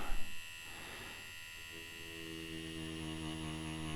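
Ambition Soldier Max tattoo machine running at 5.5 volts, giving a steady, close electric hum and buzz with strong tonal harmonics that holds throughout after a brief knock at the start.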